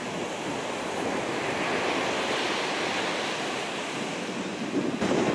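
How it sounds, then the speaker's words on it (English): Wind blows along a seashore near Sandy Hook and the Shrewsbury River, a broad, steady roar blended with washing surf that swells and buffets the microphone toward the end. "Listen to the wind blow."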